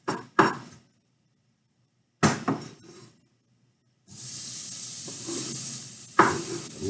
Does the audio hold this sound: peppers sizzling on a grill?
yes